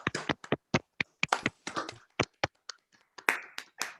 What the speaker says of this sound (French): Merci d'ouvrir vos micros pour un chaleureux applaudissement à Xavier Comtesse